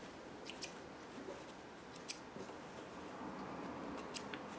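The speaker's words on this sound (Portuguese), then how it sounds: "vamos cortar a linha" Scissors snip through sewing thread while making a fabric wall organizer, giving a few faint, sparse clicks and snips over a quiet room hiss.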